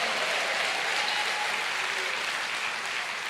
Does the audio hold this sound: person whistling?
no